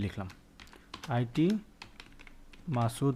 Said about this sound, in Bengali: স্প্যান নেওয়ার পর আমরা লিখলাম আইটি মাসুদ